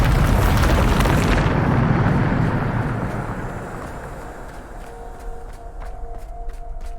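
A Bombarda explosion spell in Hogwarts Legacy bursts with a loud, bright boom that rolls into a long, fading rumble, leaving a low drone and faint tones behind as the blast dies away.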